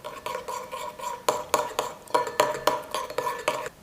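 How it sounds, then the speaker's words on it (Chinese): A spoon briskly stirs a small amount of oil and flour together in a bowl, making repeated clinking scrapes against the bowl in an uneven rhythm, close and clear with no talking. "搅拌均匀"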